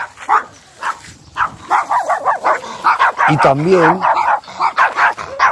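A dog barks and yips amid a person talking, with one drawn-out whining howl in the middle.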